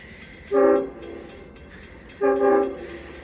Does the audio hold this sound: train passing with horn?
yes